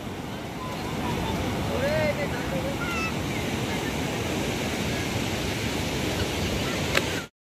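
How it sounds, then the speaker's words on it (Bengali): Sea waves rolling onto Mohona beach at Digha, a steady loud roar of surf and wind, with faint voices and bird-like chirps over the wash. "আর মধ্যিখানে বেশি ঢেউ হচ্ছে"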